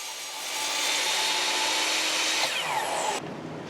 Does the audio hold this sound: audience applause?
no